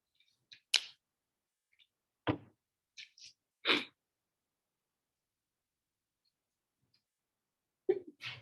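One sharp sneeze stands out in a quiet classroom during a math lesson, surrounded by a few faint scattered knocks and small noises.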